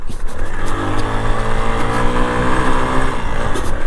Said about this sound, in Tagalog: dito sila dumadaan via ganyang boat ayan o yung motor motor kasi tawag namin dyan eh ayan motor pang tubig